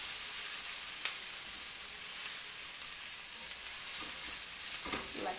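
Whole chili stirred into a hot frying pan for meatballs, giving a quiet, steady sizzle with a few soft scrapes and knocks from the stirring, and no talk over it.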